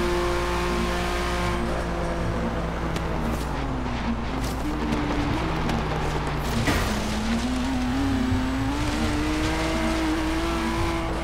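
Engine roar from a car in Forza Horizon 3 as it drifts and then accelerates, a steady revving tone that rises and falls in pitch through the corner before climbing again, loud and continuous with no talking.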